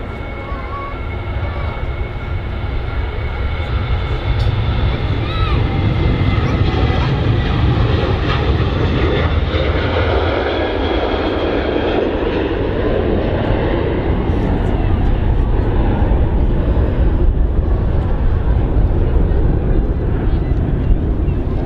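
Airliner departing Manchester Airport, a loud, sustained jet roar rising and holding steady for about twenty seconds at a moderate distance, with people talking faintly underneath.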